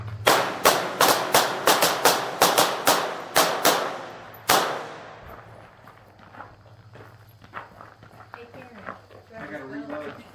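Pistol gunshots at an advanced pistol workshop: about a dozen loud, sharp reports fire in a quick uneven string, then a final shot, followed by quieter handling noise and voices talking.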